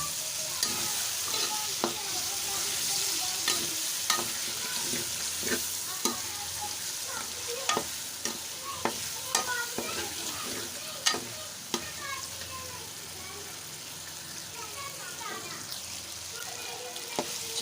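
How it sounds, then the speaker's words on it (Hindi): Potatoes and arbi (taro root) sizzling as they fry in a pan, with a steady hiss broken by frequent sharp scrapes and taps of a spoon as they are stirred, close and clear. "अब मैं इसमें आलू डाल दूँगी, उसको भी हम अच्छे तरीके से भून लेंगे।"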